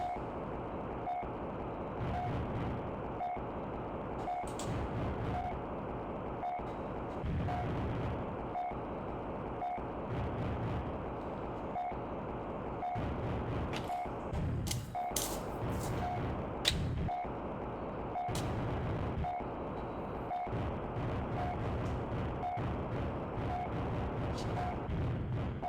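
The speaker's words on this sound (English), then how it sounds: "You can definitely see someone's taking pot shots." Sniper fire in the video game Ultrabots, sharp repeated gunshot cracks and booming impacts at irregular intervals over a steady mechanical hum and rhythmic beeping, with some talk.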